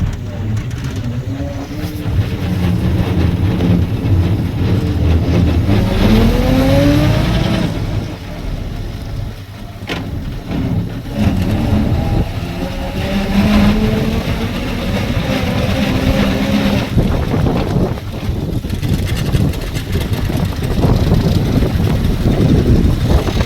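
A Studebaker car cruising on the road, its engine droning loudly and rising and falling in pitch as it moves through the gears, with wind rumble and a few voices speaking briefly in the cabin.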